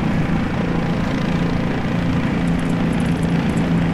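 A helicopter flying in the sandbox game Garry's Mod, a steady loud droning rotor and engine hum that stays constant throughout without talk.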